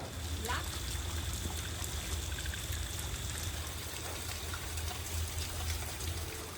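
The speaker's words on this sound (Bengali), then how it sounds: "যা বৃষ্টি, এই সারাতেও থামবেনি মনে হয়।" Steady rain falls on a rainy day in rural Bengal, a dense continuous patter and trickle of water heard close and even throughout, with nothing else standing out above it.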